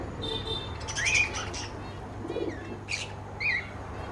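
Small Fischer's lovebirds in a bird and aquarium fish shop give short, bright chirps and squeaky calls in scattered bursts over a steady background hum, moderately near.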